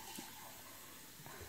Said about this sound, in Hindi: अब दो कप पानी डाल के इसमें, और मैं इसको चूल्हे पे रख दूंगी